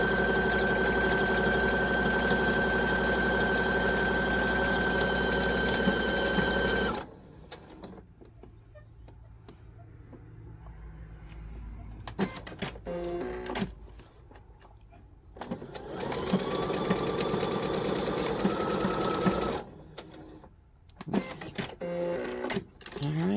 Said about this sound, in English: So now we've sewn all the way around.